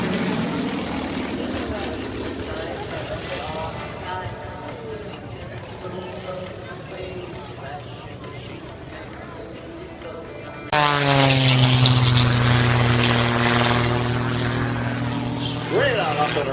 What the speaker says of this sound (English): 3 Romanian-built Yak 52 airplanes in big formation for the big old roundhouse loop.